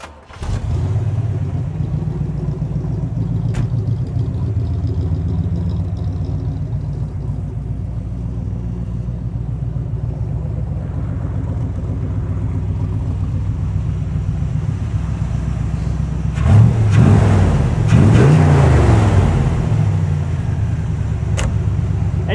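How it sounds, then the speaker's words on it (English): A 1966 Chevrolet Corvette L79 with a 327 engine and side pipes fires up and settles into a loud, steady, rumbling idle close by, with a brief burst of revving near the end. "Yeah, start it up too. We'll listen to these side pipes."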